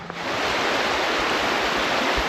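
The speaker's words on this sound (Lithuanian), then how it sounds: "Nuo kalnų tekantis upelis įteka į upę Mozelę." A mountain stream rushing where it joins the Moselle river, heard as a steady, loud broadband wash of flowing water that continues unbroken throughout with no voices.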